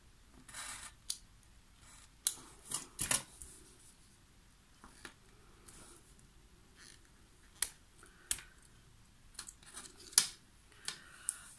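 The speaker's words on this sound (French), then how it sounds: "avec un réglé, un cutter, je vais venir couper deux lignes et évider l'espace entre ces deux lignes" A craft knife scores lines into paper against a ruler, giving faint scattered scratchy strokes and small clicks with quiet gaps, close and soft.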